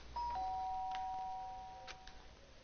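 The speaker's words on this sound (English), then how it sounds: "The sharp sound of the doorbell pierced my sleepy haze and pulled me back to the real world." A doorbell in the video game Danganronpa rings with a clean two-tone electronic chime and a short fading tail, heard alone and fairly quiet.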